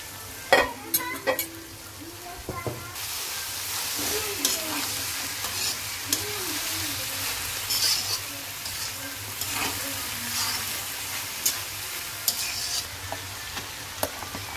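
Fried rice with egg, prawns and capsicum sizzles steadily in a pan while a spatula stirs and scrapes, close and continuous, with occasional light clinks.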